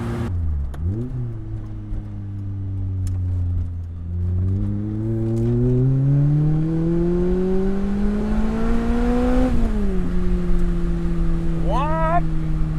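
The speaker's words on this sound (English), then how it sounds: "This is a very sport bike sounding engine, like just those, like when you rev match downshift" A 2017 Lotus Elise's engine revs up and down in a rising, falling tonal drone, climbing steadily to a peak and then dropping, with a brief sharp blip near the end, close and loud.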